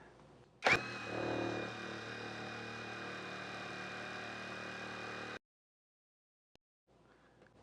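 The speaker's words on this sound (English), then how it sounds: "I have our old impact wrench right here. We're going to check our RPM." An old Hyper Tough 12V impact wrench on a 4Ah battery spins up with a sharp burst and runs free at a steady, loud whine for about five seconds, then cuts off abruptly, leaving near silence and a faint click.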